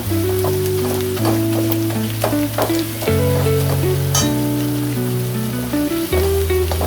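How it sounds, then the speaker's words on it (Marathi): Masala roasting in oil in a pan for homemade dum biryani, a loud continuous sizzle with stirring scrapes throughout, close, while steady tonal music plays underneath. "चांगलं भाजून घेऊया तेल सुटेपर्यंत"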